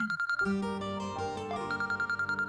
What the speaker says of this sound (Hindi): तैमूर का फोन है।